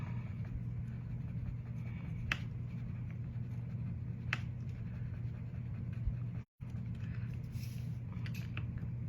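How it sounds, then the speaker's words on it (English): A brush loaded with light watercolor scribbles across paper in soft, steady scratchy strokes, with a few sharper ticks, close up and quiet with no talk. "I'm just randomly scribbling on this piece of paper"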